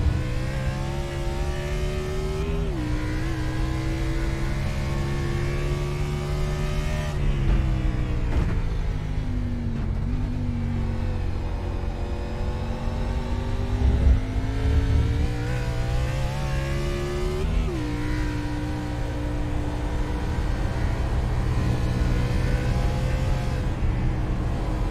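A race car engine at Watkins Glen revs and climbs through the gears, dropping pitch at each shift in a repeating rise-and-fall pattern, loud and steady, with no voices over it.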